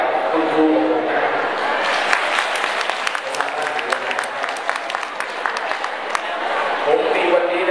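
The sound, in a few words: audience applauding a teacher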